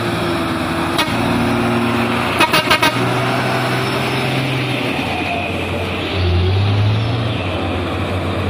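Heavy trucks, including a Fuso HD 220 PS and Hino 500s, climb a steep hill with deep engine drone throughout, a horn toot or two partway through, and a louder engine swell near the end.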